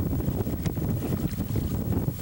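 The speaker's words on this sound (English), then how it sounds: "A little breezy now" Breezy wind buffeting the microphone while canoeing on a lake, a steady, close, low rumbling gust noise with faint water sounds beneath it and no talking.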